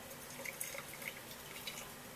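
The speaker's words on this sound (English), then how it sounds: "Go ahead and add water first." Water trickles into a jar while honey syrup is being made, quiet splashes and small drips scattered over a soft, steady pour.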